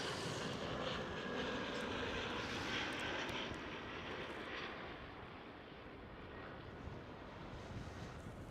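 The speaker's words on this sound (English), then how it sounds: "And speaking about an A321NEO, here we do have Egypt Air." Egypt Air Airbus A321neo airliner at Amsterdam Schiphol: a loud, broad roar of jet engines dominates throughout, easing slightly as it goes, with some wind noise and no talk.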